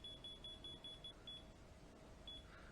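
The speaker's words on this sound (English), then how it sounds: "So there's the slow beep." A Harvst control box emits short, high-pitched beeps in a quick repeating run, pauses, then beeps again over a low steady hum.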